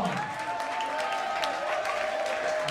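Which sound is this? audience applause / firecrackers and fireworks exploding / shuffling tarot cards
audience applause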